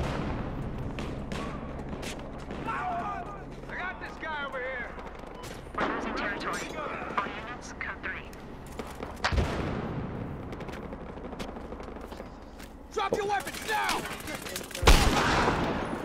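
Sniper rifle and other gunfire in a Battlefield Hardline multiplayer match, scattered shots and bursts near and far, with a few sharp loud cracks standing out over a busy background of fighting.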